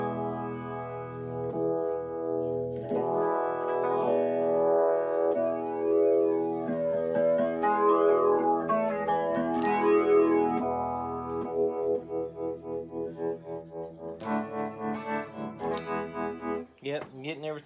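Electric guitar runs through a Terraform effects pedal in stereo, producing swirling, modulated chorus-like chords that sustain and shimmer, later breaking into quicker pulsing notes, with a voice talking over parts of it.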